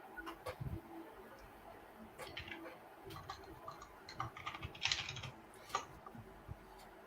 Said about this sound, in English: have the most clicky-clacky keyboard.